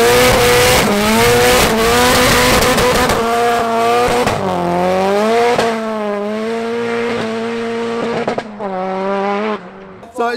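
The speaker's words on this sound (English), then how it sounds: "told me to do a burnout" A 450hp Nissan Silvia S15 does a burnout, its engine revving hard and loud with rising and falling pitch and tire squeal, close and dominant, dropping off briefly near the end.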